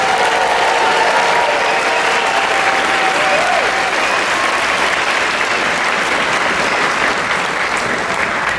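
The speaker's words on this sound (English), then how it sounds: "Let's give these students a round of applause." Sustained audience applause fills an elementary school fifth grade promotion ceremony, a dense, even wash of many hands clapping at once, loud and continuous for the whole stretch with no voices over it.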